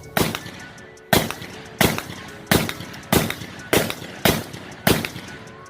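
Gunfire rings out in a steady series of about eight loud, sharp shots spaced under a second apart, each with a short echoing tail and no talking between them.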